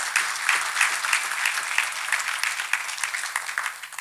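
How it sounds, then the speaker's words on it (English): A church congregation clapping their hands for Jesus Christ during a testimony service, loud, dense and continuous with rhythmic accents running through, close and enveloping. "clap your hands for Jesus Christ"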